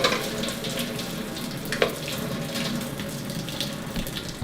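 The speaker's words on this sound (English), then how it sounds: "we're going to dump out all of the hot water" Hot water from boiled eggs is dumped out through a strainer, a steady close rush and splatter of liquid that runs continuously with a small clatter partway through.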